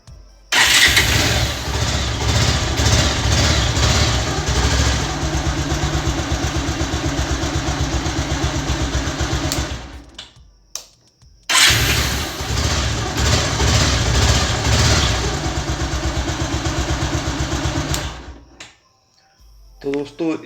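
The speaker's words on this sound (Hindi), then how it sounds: "तो फ्रेंड्स हम ऑन करते हैं बाइक को।" A Bajaj Pulsar motorcycle started with its electric self-start, giving two loud, sustained bursts of engine sound about ten seconds each, separated by a short pause, close by.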